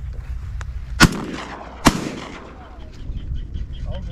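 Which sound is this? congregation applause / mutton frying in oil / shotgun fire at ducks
shotgun fire at ducks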